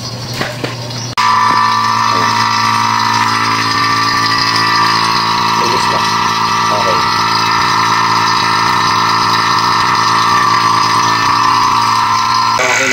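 Vacuum pump evacuating a Midea inverter window air conditioner with a P4 error, a steady droning motor hum that switches on abruptly and runs continuously at a constant level, close and loud.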